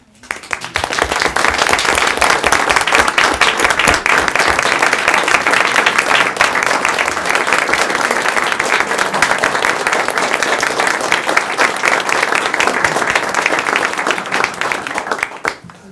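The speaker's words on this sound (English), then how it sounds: "I'd like to give her a round of applause and call her up here." Sustained applause from a large audience at a town board of trustees meeting, loud and steady for about fifteen seconds with dense overlapping claps, tapering off at the end.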